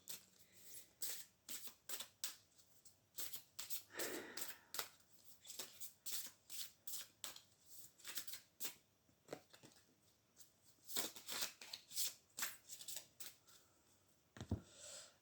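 Oracle cards shuffled by hand for a reading, a quiet, close series of crisp riffling and slapping bursts in an irregular rhythm, with brief pauses between handfuls and no talk.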